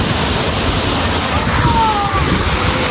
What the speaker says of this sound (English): Got the ocean right here.